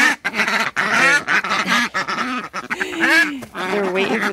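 Farm ducks quacking excitedly in the morning while waiting for mealworms, a close, loud, overlapping chorus of nasal honks and quacks in rapid irregular bursts.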